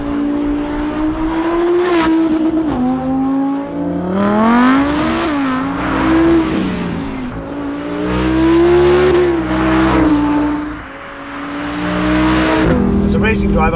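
An Audi R8 engine revving and pulling through gears while driving, a loud, steady tone that swells and falls repeatedly, with someone talking over it.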